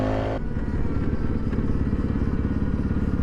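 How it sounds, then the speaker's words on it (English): A 2019 Yamaha WR250F dirt bike's 249cc single-cylinder engine revs and then settles into a loud, close, rapid thumping putter during a first ride, with no talk over it. "This little 249cc single is"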